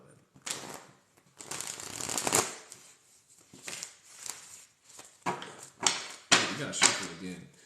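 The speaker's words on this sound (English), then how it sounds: "We gotta shuffle again." Crisp bursts of tarot cards being shuffled, several riffles separated by short pauses, with a voice speaking over parts of it.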